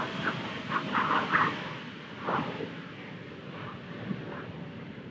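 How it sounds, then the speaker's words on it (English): A low-flying plane about 500 feet overhead rumbles as a broad, steady roar with a faint hiss, swelling in the first seconds, then easing to a continuous distant drone with no talk. "I'm not a big fan of listening to planes fly about 500 feet over my head"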